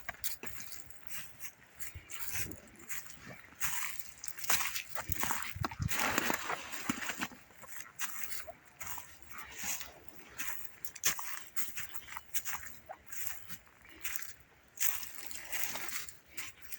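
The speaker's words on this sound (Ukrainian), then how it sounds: "Мій пес бігає." A dog runs through a winter forest, its movement making steady rustling and crunching bursts throughout, fairly close, with occasional sharper noises and no talking.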